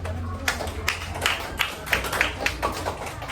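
Scattered hand claps from a group of primary school students in a classroom, a loose patter of sharp taps close by over a low room hum, with no talking.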